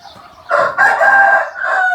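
A rooster crows loudly and close by, one sustained crow lasting over a second after a brief quieter lead-in.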